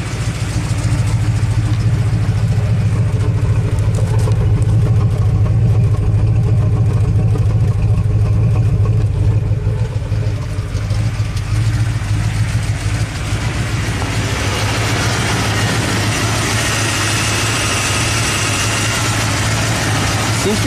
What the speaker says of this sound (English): it's idling on its own now